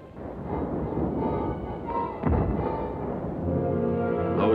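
German artillery fire from hilltop positions in WWII Italy at Salerno, heard as a continuous rumbling barrage with a heavier boom near the middle and rolling noise throughout, with no speech.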